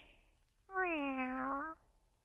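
A cat in a children's story gives one clear, drawn-out meow of about a second, close and alone over a faint background hum.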